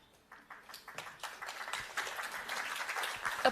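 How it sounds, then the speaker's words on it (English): Applause from a conference audience at a sustainability event builds from scattered claps into steady, moderately loud clapping over a few seconds. "Applause, indeed."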